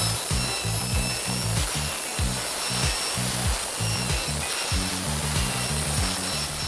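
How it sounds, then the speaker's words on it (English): A wood router carves textures into wood with a loud, close, rattling drone broken by quick repeated pulses, each burst regular as the bit bites into the grain. "The router is equipped with different bits that can create many different textures."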